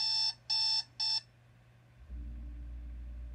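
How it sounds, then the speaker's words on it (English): An alarm clock beeps three times in quick, evenly spaced bursts, then stops, leaving a low steady hum. "Every morning my alarm clock wakes me up for school."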